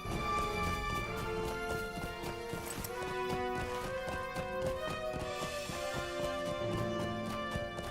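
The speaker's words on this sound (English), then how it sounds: "let's just get on the horse" Horse hooves clopping at a steady pace in the online game LOTRO, a continuous rhythmic patter set under music and game ambience at moderate, somewhat quiet level.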